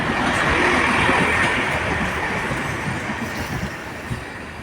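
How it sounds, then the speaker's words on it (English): A Great Western Railway Class 165 diesel train at a station gives a loud, steady rumble with a broad wash of noise that eases slightly toward the end. "Hello, Great Western Railway 165."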